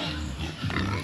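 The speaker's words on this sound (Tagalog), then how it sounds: "yan yung isang baboy natin na inahing" A sow, a mother pig on a farm, gives a short burst of close grunting and snorting, rough and low, over a noisy background.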